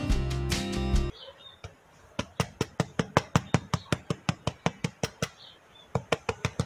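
Knuckle knocks on a golden-crusted baked sandwich loaf (pan lactal), about twenty sharp hollow raps in a steady run, close and fairly loud, after a brief burst of other noise at the start.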